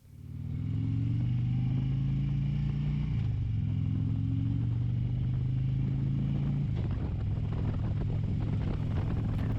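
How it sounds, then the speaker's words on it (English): A Harley-Davidson Road King motorcycle rides along the open road with a loud, steady engine rumble. The pitch drops and resettles at two gear shifts, and wind buffets the microphone. "we'll get on the Road King, and I'll show you what this looks like out on the road"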